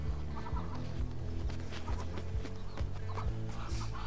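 Muscovy duck with newly hatched ducklings among other poultry, giving steady overlapping clucks and soft peeps at moderate volume with a busy yard murmur behind, no talking.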